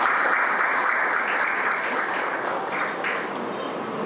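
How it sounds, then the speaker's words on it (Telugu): A crowd at a free food distribution event gives sustained applause for the visiting guests, a dense, even roar of many clapping hands that holds steady throughout and fades slightly toward the end. "వారికి గట్టిగా మీ చప్పట్లతో అభినందనలు తెలుసుకోవాలి"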